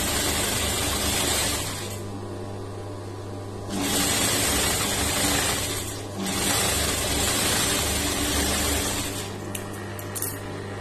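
A sewing machine stitching a lined blouse, running in loud close bursts of a few seconds each, separated by short pauses.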